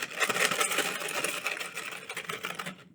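A homemade stapled craft noisemaker filled with corn kernels rattles as it is shaken, a dense, fairly quiet gritty patter of hard kernels with rapid rhythmic pulses that fades out at the end.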